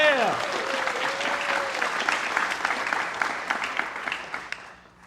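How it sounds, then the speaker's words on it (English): An audience at a live conference stream applauds speaker Alex: steady, close clapping lasting several seconds, fading toward the end, with a cheer and voices mixed in at the start. "Round of applause for Alex"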